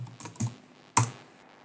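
Keystrokes on a computer keyboard, a few quick close taps followed by one sharper, louder key press, alone with no talking.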